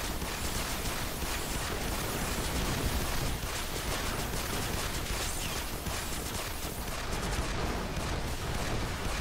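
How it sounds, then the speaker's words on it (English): Dense, continuous gunfire and explosions fill a Gundam Dynasty Warriors battle as a shotgun-armed unit fires, loud and unbroken with no clear gaps between blasts. "I'm gonna use my shotgun unit to do some damage."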